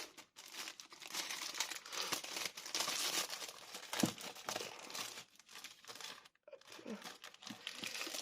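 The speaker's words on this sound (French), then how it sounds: "je referme ma petite pochette" A small paper pouch is crinkled and folded shut, giving a close, busy run of rustles and crackles with a brief quiet gap near the end.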